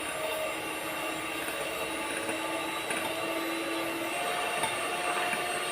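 An electric hand mixer on second speed beats vanilla cake batter, giving off a steady, faint motor whine with a soft whirring hum and no break throughout.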